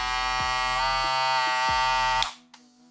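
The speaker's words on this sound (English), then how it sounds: "So I was testing this battery on this clipper, so it was good." Wahl Magic Clip cordless hair clipper with a 4200mAh battery running fast, a steady close buzzing hum for about two seconds before cutting off, followed by a brief restart.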